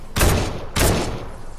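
A thermal-scoped AR in a large-scale shooter video game fires two loud, close bursts about half a second apart, each with a sharp onset and a short echoing tail.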